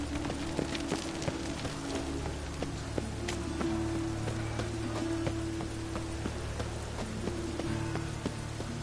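Rain pattering steadily through the streets of Novigrad in The Witcher 3: Wild Hunt, a constant hiss scattered with sharp clicking drops, over a low sustained tonal background.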